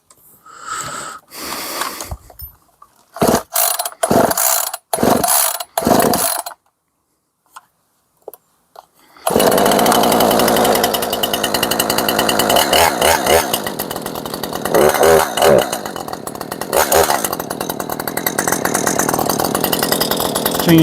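A new Husqvarna 550XPG chainsaw takes a few sharp pull-start bursts, then catches and runs loud and steady at close range, its buzzing engine revving and easing with a slightly rough, uneven edge.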